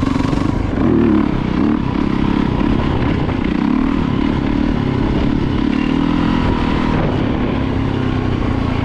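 A 1998 Yamaha YZ450FX dirt bike, rejetted for its exhaust and filter, runs steadily and loudly close by. The engine drone holds without a break the whole time, and no one speaks.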